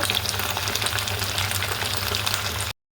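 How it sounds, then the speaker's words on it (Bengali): Marinated chicken sizzles and fries steadily in a pan, a dense continuous crackle that stays loud and close throughout with no talking. "তো এখন মেরিনেট করা মাংসগুলোকে আমি ভাজি করে নিব"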